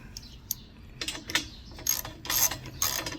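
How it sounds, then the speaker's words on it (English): A part is screwed into a hole and threaded while building a walnut table; a few close, irregular metallic ratcheting clicks and scraping turns in short bursts, without talk. "Now if it lines up with that hole, I can screw it in."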